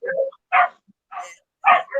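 Several dogs bark in short, sharp bursts spaced about half a second apart, loud and close against otherwise quiet surroundings.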